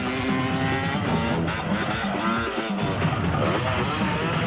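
A dirt bike engine revs hard before a long jump, a loud, sustained, wavering motor roar that rises and falls in pitch across a few seconds.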